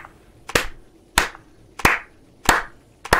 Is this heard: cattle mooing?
no